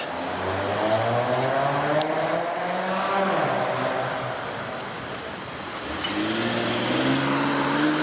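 A car rolls along Bloor Street in Toronto with a steady engine and road-noise rumble that swells, dips and rises again nearby.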